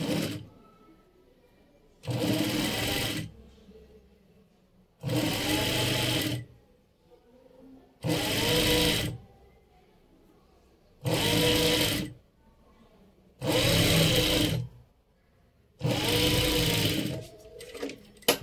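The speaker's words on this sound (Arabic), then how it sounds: "غادي نخيطو الكم ديالنا نطوي بسنتيم." A sewing machine stitches a sleeve hem in seven short bursts of rapid whirring, each a second or two long and separated by brief quiet pauses, loud and close.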